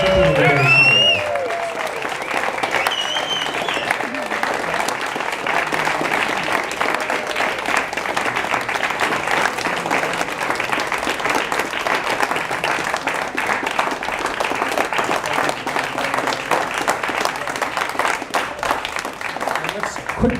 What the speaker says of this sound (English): let's give a rousing round of applause for Kent Epperson for his work